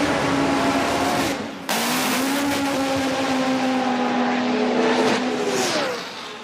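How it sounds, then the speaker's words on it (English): Nitro drag racing motorcycle at a racetrack, a loud sustained engine roar with a brief cut near the start, then a steady high-revving drone that fades slightly at the end. "Sounds of the racetrack."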